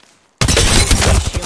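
Heavy video-game gunfire strikes the player in a sudden loud burst of rapid shots. It starts after a brief near-silence and continues as a dense, continuous fusillade.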